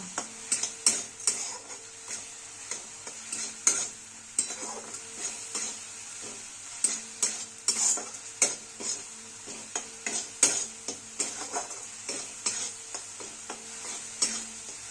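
Chole gravy being stirred with chutney, salt, turmeric and garam masala in a frying pan, with a steady sizzle under repeated scraping and clinking of a spoon against the pan, close and fairly loud, no talking.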